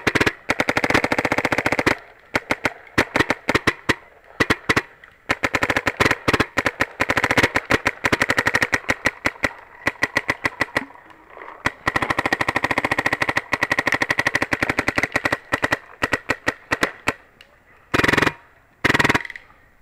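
Automag mechanical paintball marker firing in semi-auto, long rapid strings of sharp close pops with short pauses between bursts.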